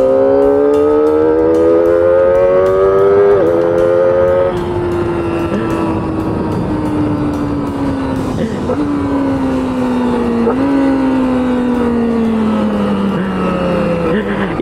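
Aprilia RS 660 sport bike with a 660 cc parallel-twin engine, accelerating hard on an open road, its loud, steady drone climbing in pitch between gear shifts with wind rushing throughout.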